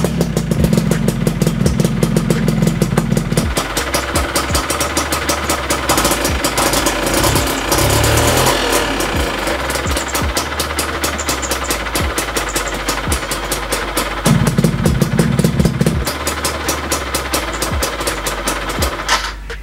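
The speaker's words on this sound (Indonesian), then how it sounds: "sekalian kita cek sound juga suara dari knalpot L9 Racing Exhaust ini ya cuy" A motorcycle idling through an EL9 Racing Exhaust muffler with a slightly leaking joint, loud and close, a steady rapid mechanical chatter with a few brief blips of throttle rising above the idle.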